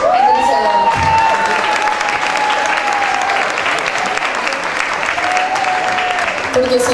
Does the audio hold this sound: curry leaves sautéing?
no